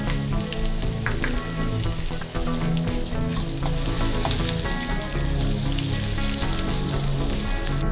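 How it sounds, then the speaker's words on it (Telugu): Cumin, mustard seeds and ginger pieces frying in hot oil for a cabbage and chana dal stir-fry, a dense, loud, continuous sizzle and crackle with tiny popping bursts throughout, no voices. "ఆయిల్ వేడిన తర్వాత జీలకర్ర ఆవాలు వేసుకోవాలి. ఇందులో అల్లం ముక్కలు కూడా వేసుకోవాలి."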